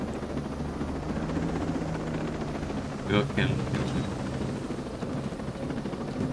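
A border chopper helicopter in Ghost Recon Breakpoint gives a continuous loud rotor and engine roar throughout, with brief sharp bursts near the middle and a voice speaking over it.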